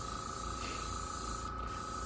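Spray paint hisses steadily and continuously from a can onto a Bachmann 1:20.3 scale model caboose being weathered, a close, unbroken spray with a brief dip near the end.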